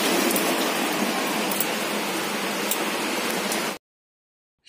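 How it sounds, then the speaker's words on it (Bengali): Heavy monsoon rain from a low-pressure system pours down where water has pooled, a dense, loud, continuous roar of rainfall that stops abruptly, leaving silence. "নিম্নচাপ আকাশ যেন ভেঙে পড়েছে, এত বৃষ্টি হচ্ছে"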